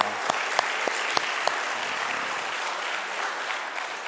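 A church congregation at a Wednesday worship service gives a loud, dense round of applause to encourage a short-term mission team, with a few sharp claps standing out at the start before settling into steady clapping.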